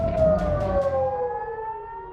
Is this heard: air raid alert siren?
yes